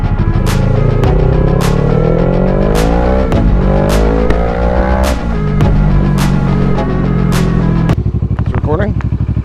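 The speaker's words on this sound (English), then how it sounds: "Sorry, I had to rev." A motorcycle engine revs on a winter ride in Spokane, its pitch climbing twice in long surges before settling into a steady throbbing idle, loud and close with constant wind rumble.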